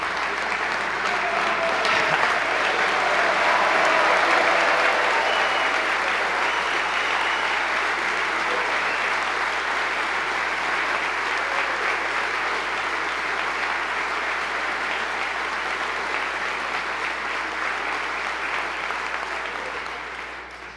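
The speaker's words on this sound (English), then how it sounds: "I'll ask for your applause." Sustained applause from the audience at a governor's 2017 State of the State address, a dense, steady wash of clapping lasting about twenty seconds, loud throughout and tapering slightly toward the end.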